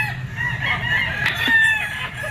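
A yellow-legged bull stag rooster crows nearby, one sustained crow over a steady low background hum.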